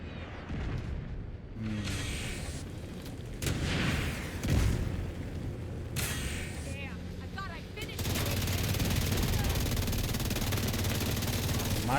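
Explosions and bursts of gunfire fill a firefight in The Division 2, loud and dense, with booming blasts and heavy shooting over a sustained battle din.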